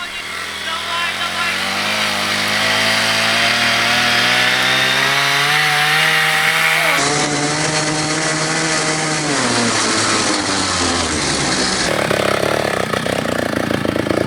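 An electric snowmobile races a super ATV, their motors whining loudly and steadily as the pitch rises and falls, with harsh grinding noise throughout. The whine stays close and continuous.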